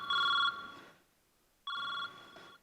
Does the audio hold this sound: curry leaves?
no